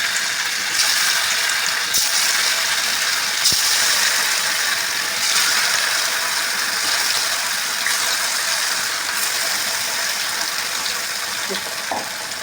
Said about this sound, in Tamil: இப்போது இதை எண்ணெயில் போட்டு பொரிச்சு எடுக்கணும்.